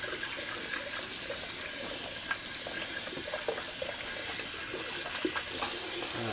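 Tap water runs steadily into a sink while a Semogue 830 shaving brush is rinsed out. The splashing stays close and continuous, with small surges and no talk.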